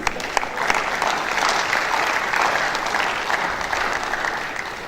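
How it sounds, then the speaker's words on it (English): Conference audience at a national surveyors and valuers conference applauding, a full, steady wash of clapping that holds evenly throughout, fairly close and loud with no talk over it. "Please, a warm applause."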